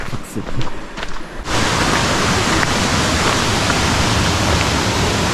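A waterfall in Akatarawa Forest, New Zealand, roars in a dense, steady rush of broadband noise, loud and close, after a second of rustling and shifting at the start.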